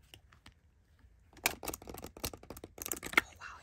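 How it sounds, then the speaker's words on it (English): A large oracle card deck being side shuffled: after a quiet start, a run of quick crisp card flicks and riffles arrives close up, with faint bursts of speech. "So it's actually super easy to just side shuffle like this."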